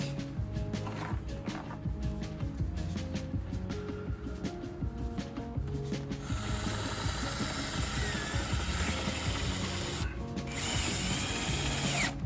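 A power drill drives self-tapping sheet metal screws into an RV friction door hinge, whirring in short pulses with a steady mechanical hum and harsher grinding later on.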